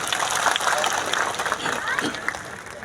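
Crowd applause fills a political rally speech after a road show, a steady, dense wash of clapping running through the whole stretch, with voices mixed in.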